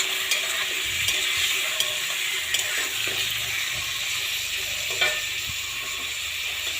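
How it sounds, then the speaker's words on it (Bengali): Meat with bay leaf fries in a pan over a gas flame, a steady close sizzle punctuated by sharp scraping clicks from a spoon stirring against the pan. "এখন মাংসটাকে একটু ভাজা ভাজা করে দেব।"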